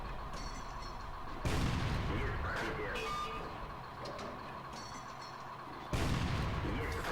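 Tank cannon shots in a tank video game: two heavy booming blasts several seconds apart, with mechanical rumble and scattered battle noise between them.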